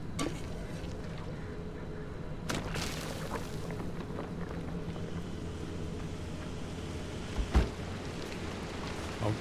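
Rain falls in the driving game Pacific Drive as a steady, close hiss and patter, with a couple of dull thumps breaking through.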